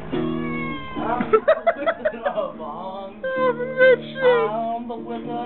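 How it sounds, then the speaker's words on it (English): A cat meows repeatedly, drawn-out wavering cries that are close and fairly loud, with no talking heard. "Look at that cat over there."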